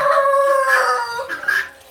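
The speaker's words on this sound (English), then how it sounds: "now the guinea hen wants to get in on the noise making, not just the roosters." Roosters crow in long, loud, harmonic calls close by, joined by a guinea hen's sharper cries, the crowing overlapping and continuous with a brief pause before a final burst.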